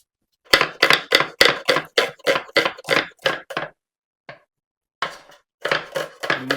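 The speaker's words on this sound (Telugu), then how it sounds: "ఇగో ఉల్లిగడ్డ కట్ చేయి." Knife chopping onions on a board for chicken curry, a steady run of about a dozen sharp, close chops, a pause, then another quick burst of cuts.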